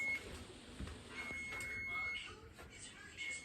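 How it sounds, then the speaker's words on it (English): A kitchen timer sounds during sourdough bread baking, a faint steady electronic tone running under quiet room noise and speech. "Timer's going off."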